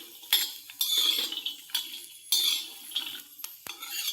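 Fenugreek chutney stirred and sautéed in a pan, a spoon scraping in repeated strokes with metallic clinks and a soft sizzle beneath, fairly close and alone.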